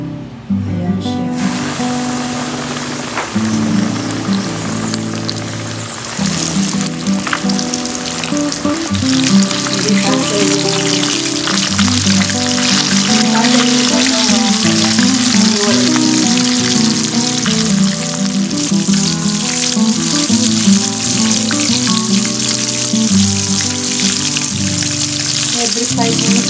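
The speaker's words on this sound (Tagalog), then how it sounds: "diretso prito na po siya sa mahinang apoy lang" Flour-coated chicken fries in oil over low heat, giving a loud, continuous crackling sizzle that holds steady throughout with no talk over it.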